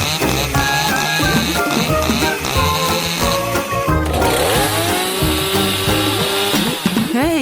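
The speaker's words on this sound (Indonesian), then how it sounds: "Halo, gergaji mesin." A chainsaw runs loudly and close, its engine revving up and down in uneven bursts, with the pitch swooping in the second half amid busy background sound.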